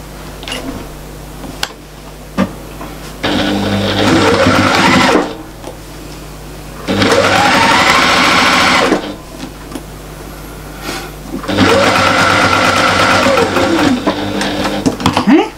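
A sewing machine runs in three long bursts, stitching fabric for a toilet bag or wallet, with its rapid mechanical whir stopping and restarting and brief clicks and handling noises in the pauses.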